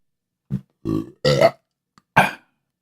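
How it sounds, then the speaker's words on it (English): A man lets out a few short, close burps after drinking Pabst Blue Ribbon beer, separate gulpy bursts with silent gaps between them. "That burp was brought to you by Pabst Blue Ribbon"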